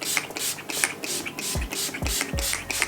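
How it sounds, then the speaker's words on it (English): Urban Decay All Nighter setting spray mists out in a few short, close hissing pumps, each a brief airy burst with faint clicks of the nozzle between them, no talking. "So I'm gonna go in with my setting spray."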